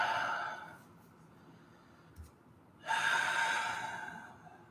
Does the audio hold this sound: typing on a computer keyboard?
no